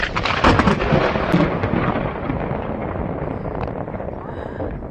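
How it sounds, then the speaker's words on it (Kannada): A loud, rumbling thunder clap at Ramadevara Betta rolls through and slowly fades, with rain-like hiss underneath and a few sharp cracks near the start. "ಜೋರಾಗಿ ಸಿಡಿಲು ಬಡಿತು, ತುಂಬ ಜೋರಾಗಿ ಶಬ್ದ ಕೇಳಿಸ್ತು"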